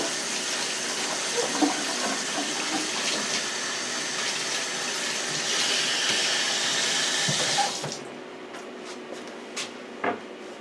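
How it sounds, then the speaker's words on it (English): Tap water runs steadily into a kitchen sink while hands are washed, a broad even hiss that cuts off near the end and leaves a few faint clinks and drips. "let me wash my hands."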